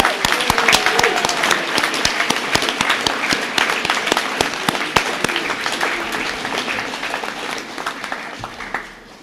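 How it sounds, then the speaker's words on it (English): School graduation audience giving a round of applause: many hands clapping in a crisp, dense burst that stays strong for several seconds and slowly thins out near the end. "Let's give Mr. Poirier a round of applause."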